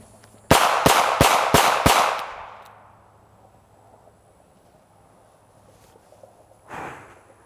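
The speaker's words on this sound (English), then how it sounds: "You can dump a cylinder from inside of a jacket pocket with decent close range accuracy." A revolver fired from inside a jacket pocket empties its cylinder in five sharp, evenly spaced shots, loud and close, with a fading tail and one softer thud a few seconds later.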